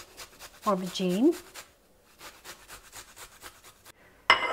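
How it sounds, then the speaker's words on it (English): Garlic cloves grated onto roasted aubergine for a dip: after a brief spoken word, a quiet, steady run of rhythmic rasping strokes, ending with a sharp clatter. "I'm just going to grate a couple of garlic cloves on top of this"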